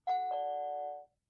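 A Nest Doorbell sounding its Nest Classic chime theme, two soft overlapping bell tones struck close together that sustain evenly for about a second before cutting off, clean and isolated.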